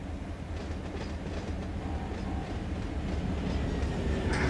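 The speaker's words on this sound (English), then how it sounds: "Heard another train blowing its horn." Simulated freight train from Run 8 Train Simulator near Waycross rumbling past with steady rolling rail clatter and wheel noise, fairly loud and continuous throughout; a horn is not clearly distinct.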